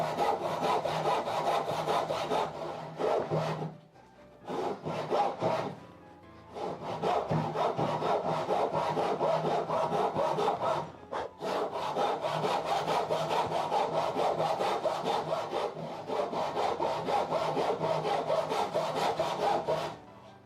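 Dull tenon saw cutting wood by hand, a rhythmic rasping back-and-forth stroke repeated steadily and close, pausing briefly a few times before resuming.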